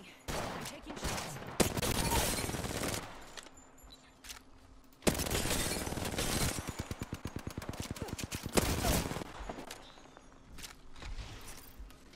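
Bursts of automatic gunfire strike the player in Apex Legends, loud, dense volleys with a rapid rattling stretch in the middle, separated by brief lulls.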